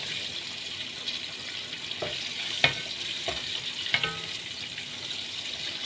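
Chicken frying in a pan in a home kitchen, a steady broadband sizzle with a few sharp pops and clinks at irregular moments, fairly close and moderately loud, with no voices.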